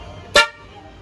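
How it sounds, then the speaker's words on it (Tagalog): A single short, loud car horn honk, close by, with faint traffic noise underneath. "Yan, mga busina."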